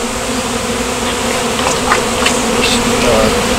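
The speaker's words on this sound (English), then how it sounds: "I can tell when there's a bee flying around my ear or something," Honey bees buzz around an open beehive during a frame inspection. The hum is dense and continuous, with individual bees droning past close by.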